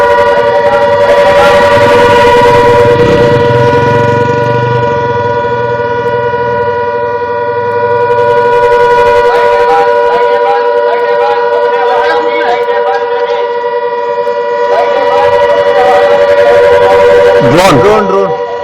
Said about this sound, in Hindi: बड़ी खबर इस वक्त है जो कि सायरन की आवाज आप सुनिए।